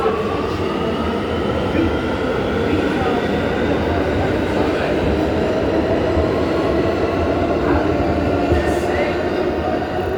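Steady loud rumble and rattle of a subway car in motion, continuous throughout, with faint wheel squeal and indistinct voices in the background.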